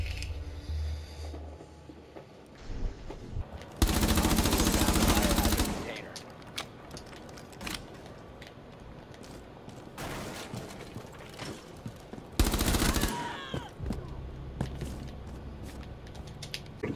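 Video game gunfire, two loud sustained automatic bursts standing out against quieter scattered shots, clicks and mechanical noises, with occasional talk.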